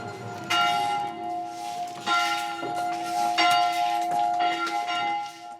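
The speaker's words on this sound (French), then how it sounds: "C'est la première fois que vous refaites sonner cette cloche?" A church bell in a Middle Eastern Christian community rings repeatedly with rich, sustained metallic tones, strokes overlapping as the ringing continues steadily for several seconds; no speech.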